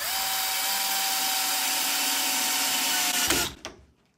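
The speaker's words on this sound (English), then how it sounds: "Again, take your screwdriver or power drill." A power drill drives screws into aluminum rod while assembling a chick brooder, whirring continuously at high speed for about three seconds, then winding down abruptly with a couple of clunks before falling quiet.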